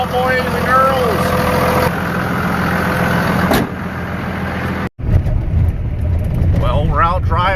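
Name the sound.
24-valve engine running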